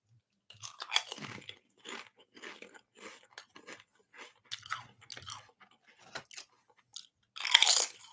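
Potato chips crunched and chewed close up, with repeated crisp bites and chewing bursts through the clip and a louder crunch near the end, no talking.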